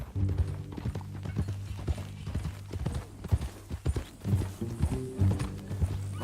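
Horse hooves clip-clop in Red Dead Redemption 2, a steady rhythmic run of crisp hoofbeats close by on a trail, with a possible faint whinny and no clear talk.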